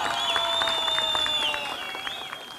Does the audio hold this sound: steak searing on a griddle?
no